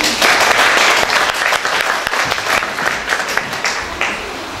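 An audience at a Miss Oise 2019 pageant press presentation claps for a candidate, a loud burst of applause that gradually thins and softens over a few seconds.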